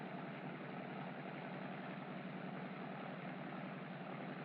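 A Curtiss seaplane engine runs at a steady throttle of about 1900 RPM, driving a constant speed propeller. It gives a continuous, even drone that holds level throughout with no voices.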